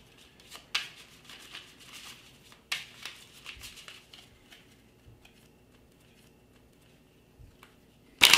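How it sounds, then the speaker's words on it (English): Game cards from a tabletop war game deck are shuffled briefly, giving soft scattered riffle and rustle bursts in the first few seconds before quieter handling and a sharp knock at the end. "we're going to just shuffle these briefly."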